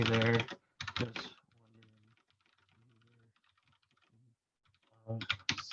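Computer keyboard typing comes in quick close bursts at the start and end, with soft speech in between.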